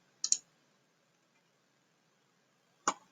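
Two sharp, quiet computer mouse clicks come close together, followed by a single click after a few seconds of near silence.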